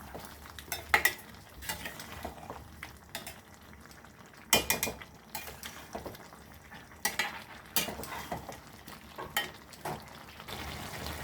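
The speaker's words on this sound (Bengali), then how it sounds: "এইভাবে কষিয়ে নেবে আলুর সঙ্গে মশলা দিয়ে, এঁচোড়টাকে ভালো করে কষিয়ে নেবে" Jackfruit and potato sautéed with spices in a pan for a shrimp dish: repeated spatula scrapes and clatters over a low frying sizzle, in uneven bursts with no voices.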